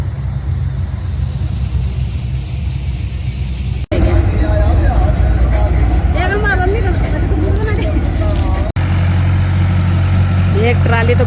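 A rice threshing machine runs loud and steady during the paddy harvest, pouring grain into a tractor trolley, with a constant engine drone and rumble, brief cuts in the sound, and people talking over the machinery.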